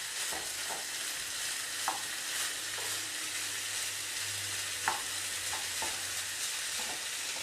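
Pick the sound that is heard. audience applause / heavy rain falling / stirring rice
stirring rice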